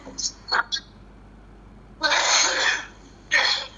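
Three short, harsh bursts, two quick ones and then a longer, louder rasp, like coughing, with quiet background noise between them.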